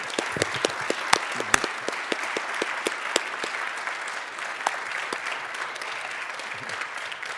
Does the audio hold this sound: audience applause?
yes